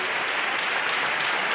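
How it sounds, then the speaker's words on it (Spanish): An audience on its feet applauds a paso doble from the Cádiz carnival comparsa Los Irracionales, a loud, dense, continuous roar of clapping filling the whole moment. "el público puesto en pie, aplaudiendo, premiando"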